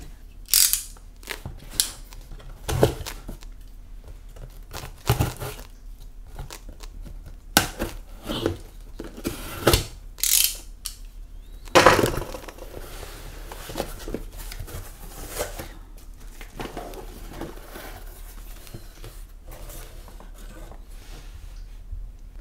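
A Twist Press coffee maker package is unboxed up close, with scattered clicks, rustles and plastic or cardboard handling noises in irregular bursts against a quiet background.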